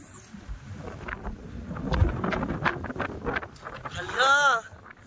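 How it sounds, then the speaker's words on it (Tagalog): Strong wind buffets the microphone near a long seaside bridge, a steady roaring rush that rises and falls, with people talking over it and a brief high voice near the end. "mahangin."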